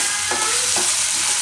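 Moong dal cooks over medium heat in a pan for upma, a continuous sizzle with a few scraping strokes of a spoon stirring it, close and clear with no talking.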